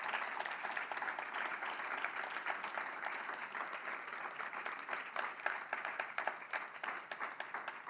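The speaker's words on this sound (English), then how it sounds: "I want the applause for my beautiful daughters." A conference audience applauds in sustained, dense clapping from many hands, steady and fairly loud throughout, with a faint murmur of voices underneath.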